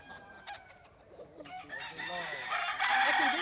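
A rooster crows at close range, a drawn-out call rising in loudness toward the end, with faint background noise beneath.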